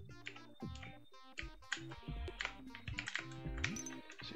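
Computer keyboard keys tapped in quick, irregular bursts while Commander Keen is played on a 386 PC. The clacks sit close over busy game music and sound effects.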